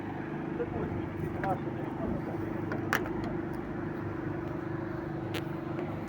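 Cars drive along a city street, a low, steady rumble of traffic at a distance, with people talking over it throughout.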